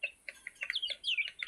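Desi chickens, a rooster and hens, cluck and chirp in a quick run of faint, short calls.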